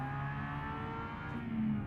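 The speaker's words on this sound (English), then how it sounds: "I love hearing that V6. Bah, bah, bah. It's such a nice sounding engine." A V6 race car engine in a 1990s DTM touring car endurance race in a video game, revving steadily and loudly for the whole stretch with a rising pitch near the end, no voices over it.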